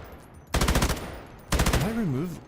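Two loud rapid bursts of automatic gunfire from a kicking, hard-to-control gun in the Last Epoch game, each a fast rattling string of shots. A wavering electronic tone follows the second burst.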